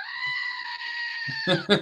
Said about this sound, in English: goat has arrived